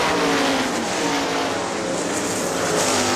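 410 sprint cars roar around Hartford Speedway Park in Hartford, Michigan, a dense, loud, unbroken engine drone from several cars battling for the lead.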